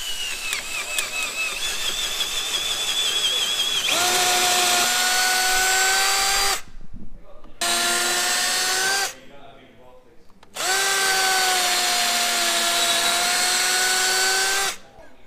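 A power drill whines loudly in three bursts, drilling out an old suspension bushing on a Nissan Skyline R32: a long run, a short spurt after a pause, then another long steady stretch, with no one talking.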